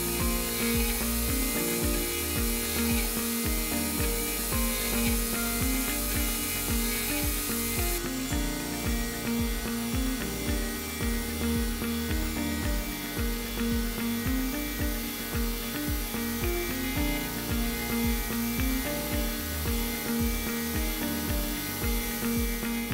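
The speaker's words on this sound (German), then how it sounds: "mm Bahnabstand erzeugt die Hammer CNC Portalfräse hier fast eine polierte Oberfläche" A Hammer CNC gantry router mills an ebony bass fretboard, giving a steady, loud machining drone with a cutting whine that runs continuously throughout, with no talk.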